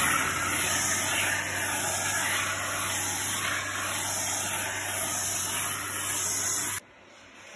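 A MIA 7 steam cleaner hisses and sprays steam onto a carpet in a steady, loud, continuous jet that stops abruptly near the end, with no speech over it.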